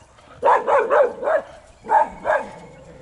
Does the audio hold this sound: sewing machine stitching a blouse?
no